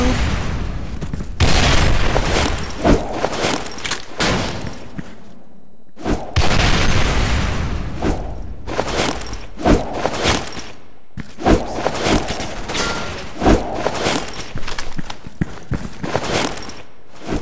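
Grenade explosions and gunfire in the Soldier Front 2 online shooter, loud booming blasts and bursts of shots repeating in clusters across the stretch, with brief quiet gaps between them.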